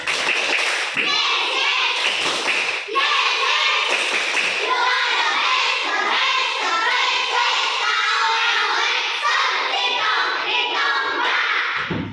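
Children in a classroom perform the 'tepuk semangat' clap chant, loud rhythmic clapping patterns with young voices chanting in unison throughout.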